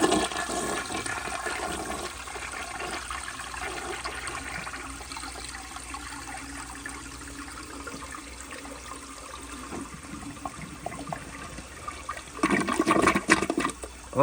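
A 1970 American Standard Cadet toilet with bedpan lugs flushes loudly and close by, a steady rush of water throughout that swells into a turbulent gurgling surge near the end, with no talking.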